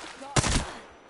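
A short burst of video game gunfire cracks sharply close by, a rapid cluster of shots over a fraction of a second, then a fading tail.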